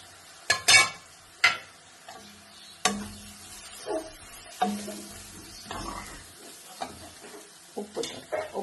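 Mutton chops being turned and stirred with masala in a pan: repeated scraping and stirring strokes over a soft, intermittent sizzle, close and fairly quiet, with no talking.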